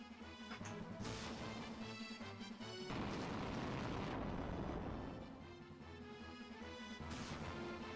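Fire spell cast in the Final Fantasy II video game: a crackling, crashing burst of spell noise rises over looping game music, swells through the middle and fades back under the music near the end, with no talk.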